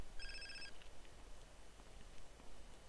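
A short electronic phone ring in Grand Theft Auto San Andreas chimes briefly near the start, then gives way to a faint, steady hum of game ambience.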